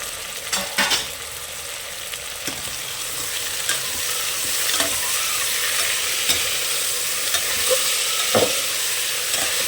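Tomatoes, carrot pieces and coriander frying in a pan for masala khichdi, with a loud continuous sizzle broken by sharp scraping stirs of a spoon against the pan, heard alone without talk.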